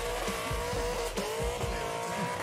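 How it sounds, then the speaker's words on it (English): A 1500 wheel-horsepower Nissan GT-R roars at speed with a steady, loud engine drone and a brief tyre squeal, no voices over it. "I think that's a 1500 wheel horsepower GTR."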